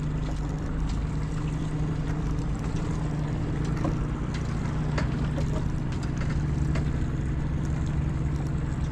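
Mercury outboard motor on a fishing boat running steadily after starting, a continuous loud drone with faint clicks and water noise around it.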